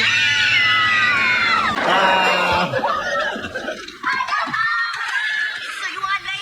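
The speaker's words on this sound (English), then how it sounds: "Now everybody scream!" A loud studio audience screams together on cue in a sitcom, the shrill roar peaking at first then breaking into scattered yells and fading voices.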